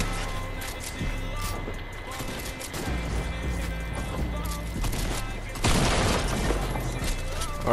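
A minigun fires in Fortnite's Arsenal game mode, a dense, loud stream of rapid shots and explosions layered through busy game noise, with a voice talking over the action.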